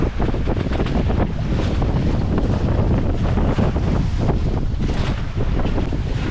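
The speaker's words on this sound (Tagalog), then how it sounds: "Ito yung lakas ng alon." Strong wind and heavy waves at sea heard aboard a boat, loud continuous roaring gusts buffeting the microphone with surging water throughout.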